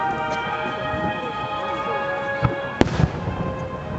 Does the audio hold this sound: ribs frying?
no